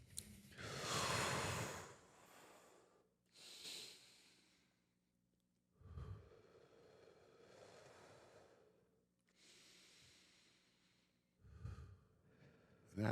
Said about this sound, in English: I work on my breathing.